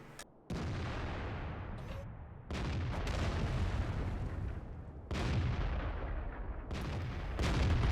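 Tank cannon fire in the World of Tanks game, with loud booming shots breaking in repeatedly across the battle, each followed by rumbling decay, and no talking over them.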